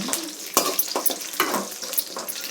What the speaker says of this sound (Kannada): ಶೇಂಗಾ ಹಾಕ್ತಾಯಿದ್ದೀನಿ. ಶೇಂಗಾ ಫ್ರೈ ಆಗುತ್ತೆ.